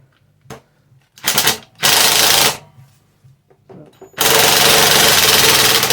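Brake disc bolts on the front wheel of a 2004 Suzuki GSXR 1000 motorcycle driven in with a power tool: loud, close rattling bursts, short ones first, then a longer sustained run at the end, with quiet gaps between.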